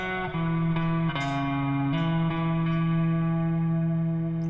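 Electric guitar with effects plays a barred chord shape from a song, a clean, reverby picked pattern of several notes ringing over a sustained low tone, with no talking.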